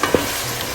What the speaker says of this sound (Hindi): अब इसमें मैं टमाटर शामिल करूँगी और इसको भूनते जाऊँगी